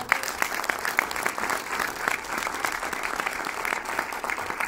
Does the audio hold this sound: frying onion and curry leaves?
no